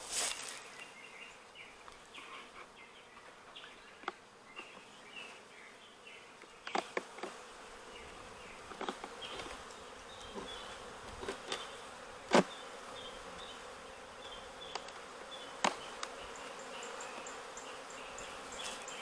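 A steady drone of many bees buzzing up close around a hive, with occasional sharper knocks and rustles breaking through the continuous hum.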